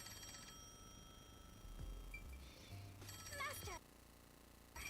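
A telephone rings in the Nintendo Switch detective game Master Detective Archives, in short electronic trilling bursts over the game's background music.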